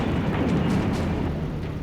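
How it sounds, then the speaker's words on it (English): A ghost special detonating in the video game Twisted Metal 2 gives a dense, roaring blast that holds steady and loud for the whole stretch like a sustained eruption, with no voices. "when you hit the fire button again while the ghost is deployed, it explodes"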